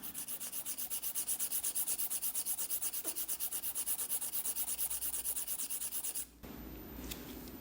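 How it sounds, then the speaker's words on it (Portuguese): Rapid, steady back-and-forth rasping of a nail file shaping the tip of a polygel nail, the strokes even and close for about six seconds before stopping abruptly, leaving quiet room noise. "primeiro a ponta, a gente faz o lixamento bem retinho"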